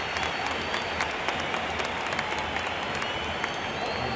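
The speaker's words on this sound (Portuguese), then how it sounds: "Estádio inteiro aplaudindo o Marcelo" A whole stadium crowd at a Fluminense club football final applauds a player, producing dense, steady clapping that sounds distant and fills the space evenly, with faint voices mixed in.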